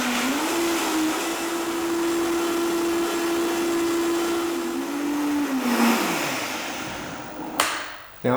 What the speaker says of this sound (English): I've got a cup of soaked hazelnuts and 3 cups of water already in my blender